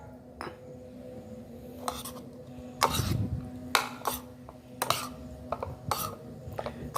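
Spoiled rice bait being stirred in a bowl, with a series of sharp, close clinks and scrapes of a utensil against the bowl coming in an irregular rhythm over a quiet background.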